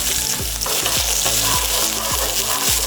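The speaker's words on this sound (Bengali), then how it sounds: "এবার কড়াইয়ের মধ্যে দিয়ে দিই মোটা মোটা করে স্লাইস করে রাখা পেঁয়াজ" Thick-sliced onions fry in hot oil in a kadai alongside whole spices like bay leaves, cinnamon and peppercorns, giving a loud, steady sizzle with repeated stirring scrapes throughout.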